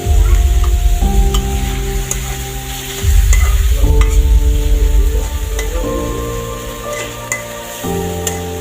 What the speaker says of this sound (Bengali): একটু নাড়া দিয়ে দিই এখানে